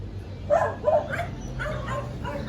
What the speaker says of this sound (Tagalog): Ayan, may aso kasi guys, oh.